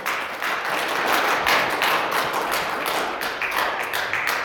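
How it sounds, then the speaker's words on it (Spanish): A church congregation gives loud, steady applause during a Spanish-language sermon, the broadband clapping filling the space continuously at close range. "Vamos a dar un aplauso fuerte al Señor porque Él es bueno"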